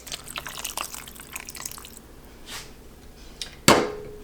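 Liquid, apparently milk, is poured into a crock pot slow cooker, with soft drips and splashes before a sudden loud splash near the end.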